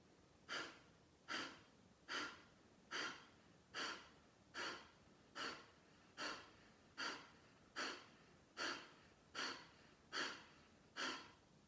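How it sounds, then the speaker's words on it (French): Kapalabhati yoga breathing: about fourteen sharp, forceful nasal exhales in an even rhythm, each a short close puff with quiet pauses between, no talking. "J'inspire et j'expire d'abord."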